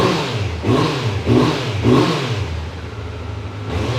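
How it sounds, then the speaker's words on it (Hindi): A stock Kawasaki Z900 motorcycle engine revs up sharply three times in a row, loud and close, then settles back to a rough idle. "स्टॉक बाइक की आवाज़ भी एक बार सुन लो"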